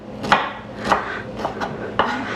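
A knife chops through broccoli stem on a cutting board, four or five sharp close cuts at an uneven pace with no voices.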